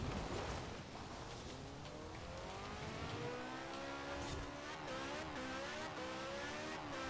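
A car engine in Forza Horizon 4 revs hard and accelerates continuously, pitch climbing through gear shifts, loud and close with no talk over it.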